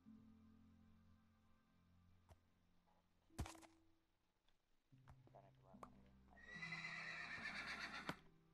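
A horse in the Minecraft video game neighs, a rising whinny near the end, with faint clip-clop hoof sounds and scattered game clicks earlier, quiet overall.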